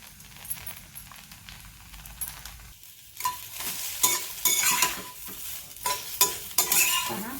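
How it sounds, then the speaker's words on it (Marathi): Okra roasting in oil in a pan with turmeric added, stirred with a spatula: steady sizzling with scraping strokes that grow louder and more frequent after a quiet start, close up. "ही भेंडी आपण भाजून घेतली आपण भेंडी भाजत असताना ही हळद घालत आहोत"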